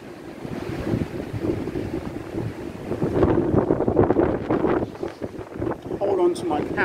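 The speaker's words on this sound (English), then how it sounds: "it's extremely windy" Strong wind roars across the microphone aboard a cruise ship at sea, with surging ocean waves beneath, loud and buffeting throughout, gusting harder in the second half, while a voice speaks briefly over it.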